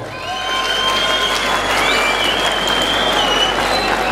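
A loud crowd claps and cheers at a bull riding tournament in Santa María Aranzazu, a dense continuous roar of applause with whistles and raised voices mixed in.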